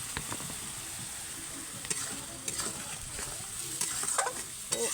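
Spices frying in hot oil in a pan at home, a constant crackling sizzle with a spoon scraping and stirring in short repeated strokes close up, with no voices.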